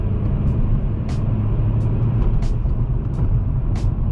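A Honda Civic with new shifter base bushings drives on a back road, giving a steady rolling engine and road rumble with faint clicks and knocks from gear changes.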